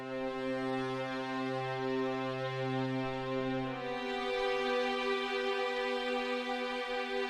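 Spitfire Labs strings sustain simple chords as long, smooth held notes that shift once midway, steady and soft with no voices.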